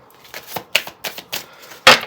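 Tarot cards being shuffled in several short, crisp bursts of riffling and flicking, close and fairly loud, with brief pauses between and a sharper final snap.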